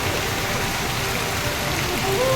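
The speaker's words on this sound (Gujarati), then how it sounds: "તો ધોધમાર વરસાદ તો હજી ચાલુ જ છે." Torrential downpour at Ranuja Ramdevra under dark clouds, a dense, loud, unbroken roar of rain beating down close by, steady from start to finish.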